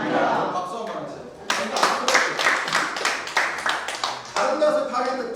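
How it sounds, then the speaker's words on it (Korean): Audience applause at a Rotary knowledge seminar in Korea bursts in loud and dense at about 1.5 seconds, a steady roar of many clapping hands that sags briefly and picks up again, with someone speaking before it starts. "박수 한번 하세요"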